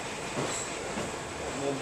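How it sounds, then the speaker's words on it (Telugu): A passenger train bound for Goa running through hill country, a steady close rumble of wheels and carriages with rattling throughout. "కొండ గృహలో పోతుంది రైలు"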